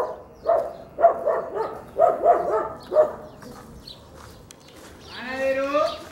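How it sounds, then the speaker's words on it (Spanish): Dogs barking on a street in Holguín, Cuba: a run of about six mid-distance barks in quick succession, then a brief pause before a louder drawn-out howl or yelp. "Los perros detrás del panadero."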